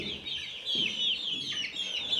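Hens cluck and chatter continuously at close range, a busy overlapping flock with no pauses and no talking.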